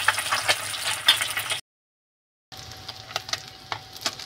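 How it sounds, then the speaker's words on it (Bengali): Mandeli fish frying in oil for a mustard-paste curry, a steady close sizzle with faint crackles that cuts out into silence for about a second before resuming. "এখন মাছটা আমি ভালোভাবে ভেজে নেব।"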